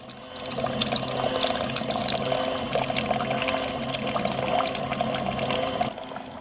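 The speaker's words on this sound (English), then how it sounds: "Skim milk is poured into a plastic bucket where the fermented iron was." Skim milk pouring into a plastic bucket, a steady splashing liquid stream lasting about five seconds before cutting off, close and moderately loud with no talking.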